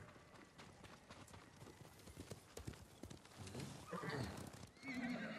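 A horse in the video game Ghost of Tsushima neighs and whinnies while hooves clip-clop steadily, fairly close, with no talking over it.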